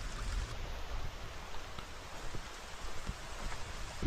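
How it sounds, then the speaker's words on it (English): Rainwater after a heavy downpour running off a field, a steady broadband wash of flowing water with scattered drip-like ticks, fairly close, loud and continuous, with no voices. "There's the water running out of the field right here."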